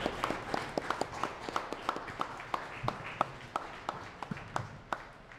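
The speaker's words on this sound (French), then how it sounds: "je vous demande d'applaudir très fortement C3 Éditions" Scattered, fairly sparse applause from an audience at an award ceremony for innovation and civic leadership, individual claps distinct and quiet, recorded from a distance with no talking.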